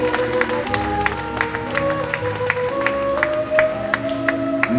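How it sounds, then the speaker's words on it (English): Wedding guests at a reception clap for the newly married couple, a steady, moderately loud patter of many hands mixed with background music. "let's give them a big, big round of applause, ladies and gentlemen."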